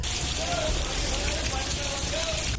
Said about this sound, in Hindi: भारी बारिश ने यूपी के कई शहरों में तांडव मचाया